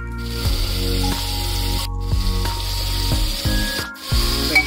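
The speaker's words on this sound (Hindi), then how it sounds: "अच्छे से मिक्स कर देंगे।" Vegetables being stirred into rice in a cooking pot for yellow rice, a few soft scraping and rubbing strokes of a spoon repeating at an uneven pace, close and fairly loud.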